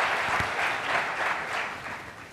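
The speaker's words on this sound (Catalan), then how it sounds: "Poden aplaudir?" An audience in the main auditorium of Caixa Sabadell applauds at a debate on Catalan independence: a dense, steady wash of many hands clapping together, filling the whole stretch at an even loudness.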